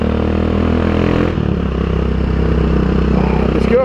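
A Vento Nitrox 250cc motorcycle idles steadily at close range with a continuous, even engine drone and slight mechanical clatter, its tone dipping briefly partway through, with no talk over it.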